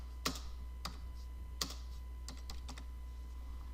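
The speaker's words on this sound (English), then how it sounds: "I'm going to have to type these in" Typing on a computer keyboard: a few sharp, close key taps scattered irregularly, some in quick pairs or clusters, over a low steady hum with no talking.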